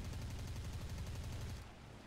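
Rapid aircraft cannon fire from a War Thunder fighter shooting at a Spitfire: a fast, even stream of thudding shots in a continuous burst that stops abruptly near the end, leaving engine drone.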